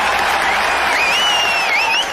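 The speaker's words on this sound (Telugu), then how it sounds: "మళ్ళీ చప్పట్లు." An audience claps in a steady broad burst of applause, dense and fairly loud throughout, with a thin whistle rising over the crowd.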